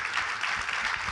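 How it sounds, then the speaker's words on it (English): An audience applauds panelists at a journalism event, a steady patter of clapping heard at moderate distance throughout. "Let's give a big round of applause for our panelists and for Evan Gershkovich,"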